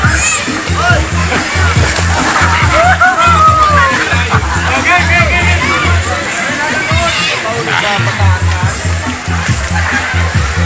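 A large crowd bathes and splashes in the water at Suwi, with continuous sloshing and splatter close by under lively chatter, children's voices and laughter.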